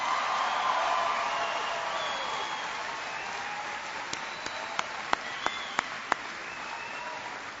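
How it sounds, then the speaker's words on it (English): A crowd applauds at a Los Angeles town hall meeting for the city's mayor: dense, sustained clapping from a large audience that slowly thins, with a few sharp single claps standing out toward the end. "Please give a huge round of applause to your mayor, Antonio Villaraigosa."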